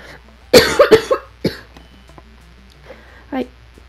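A burst of several harsh coughs close by, followed by a few quieter coughs and throat sounds trailing off.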